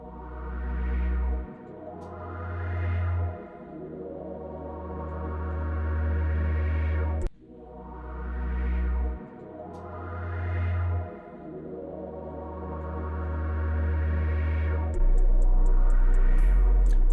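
Deep synth bass notes swell under sustained synth chords, repeating in a looping two-part pattern with a brief break midway, steady and fairly loud.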